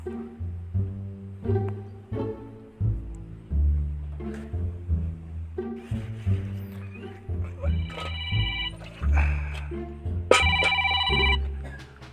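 Phone ringtone playing during a call, a rhythmic repeating melodic ring with low pulses that runs throughout, with brighter tones toward the end and some voices faintly underneath.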